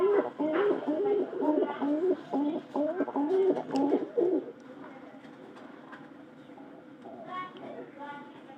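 Pigeons coo in a rhythmic run of repeated calls for about four seconds, fairly close and clear, before fading to a quieter background with faint bird sounds.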